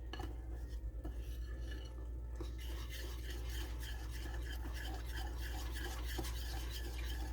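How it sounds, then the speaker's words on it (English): Flour being stirred into a liquid for onion ring batter in a bowl, a steady rubbing, scraping mix with light utensil clinks running continuously and close throughout. "So now we're just going to add this to the liquid and mix it all up until it forms a nice batter for our onion rings."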